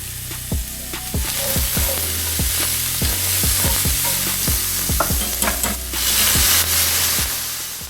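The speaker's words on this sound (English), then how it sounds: "Going to saute those up a little bit. And now I'm going in with 1 clove of minced garlic." Vegetables and minced garlic sauté in a hot pan, a loud continuous sizzle broken by repeated sharp utensil knocks and scrapes against the pan, close up, with no voices.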